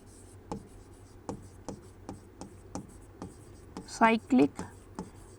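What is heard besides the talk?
writing on a board while explaining a chemistry reaction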